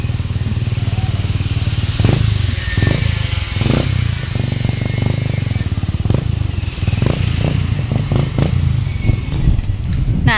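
A motorcycle rolls into a parking area on a one-way street, its engine a steady close rumble with clattering and scraping as it is maneuvered and parked.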